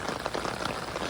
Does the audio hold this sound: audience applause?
no